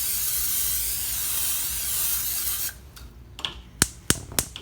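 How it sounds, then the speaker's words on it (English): Olive oil cooking spray hissing steadily onto a frying pan for a few seconds, then stopping, followed by a few sharp clicks and taps nearby. "And I'm gonna spray my pan."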